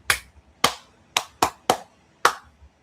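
One person claps hands six separate times, sharp and close, with uneven gaps between the claps and quiet in between.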